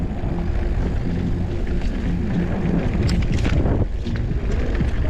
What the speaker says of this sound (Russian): Ветер такой, ух.